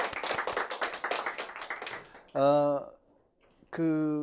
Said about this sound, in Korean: 이렇게 굉장히 뜨거운 박수로 다시 한번 환영해 주셔서 너무 감사드립니다